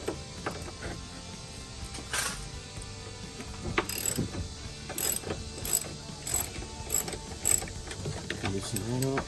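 Ratchet loosening a 14mm bolt on a 2013 Kia Sorento EX strut, close clicking pawl bursts in short irregular runs with metallic clanks and tool handling between them.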